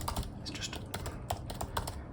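Typing on an M1 MacBook Air keyboard, rapid light clicks in an irregular rhythm, close and fairly quiet, with no one talking.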